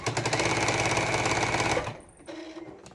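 A sewing machine runs a fast, even burst of stitching close to the edge of the fabric for about two seconds, then stops, leaving quieter handling sounds.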